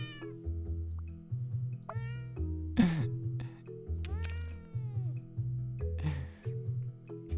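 Several cats meow in turn, a series of clear, fairly close calls with varied pitch, some drawn out, over a low tonal background.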